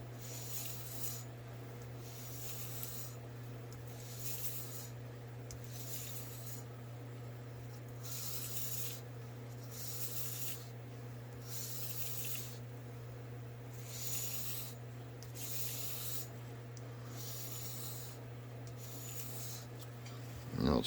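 A knife is convex-sharpened with long repeated strokes, each producing a rhythmic, evenly spaced rasping rub over a steady low hum for about twenty seconds.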